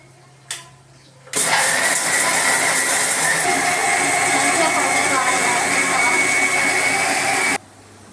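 A kitchen grinder pulverises chicken masala ingredients into powder. After a small knock it starts abruptly with a loud, steady, whirring roar that holds for about six seconds, then cuts off.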